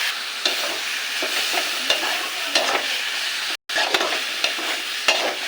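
Leafy greens are stirred and fried in oil, making a steady, fairly loud sizzle. Repeated scraping strokes of the spatula run through it, with one brief break, and there is no talk.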